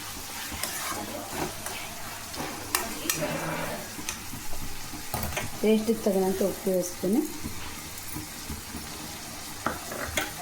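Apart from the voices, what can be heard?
frying and stirring in a pan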